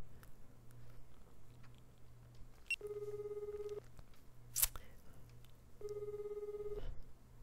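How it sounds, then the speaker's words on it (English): A phone call rings in the video game Collar X Malice, two steady buzzing ring tones about a second long, separated by a pause, over a faint background hum with a brief click between them. "I tightly squeezed my phone in my hand, and I called Okazaki."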